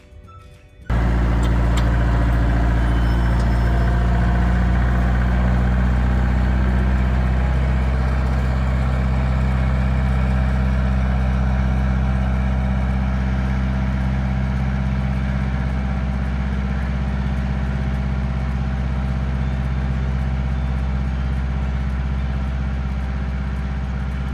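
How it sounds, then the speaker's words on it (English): A tractor in low range, first gear, pulling a middle buster through a potato field to open a furrow: the engine starts abruptly and then runs as a loud, steady low-pitched drone for over twenty seconds. "Our tractor settings were low, first gear, dropping the 3-point hitch as far down as the middle buster will allow me."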